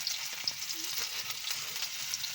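Food frying in oil while biryani is made at a party with friends, a faint, steady sizzle and light crackle heard close up for a couple of seconds without any talking.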